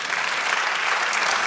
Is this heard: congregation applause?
yes